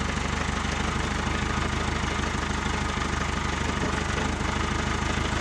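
A tractor engine idling at a rural log cabin, a steady, even mechanical rumble with a faint knocking rhythm that holds constant and fairly close throughout, with no voices.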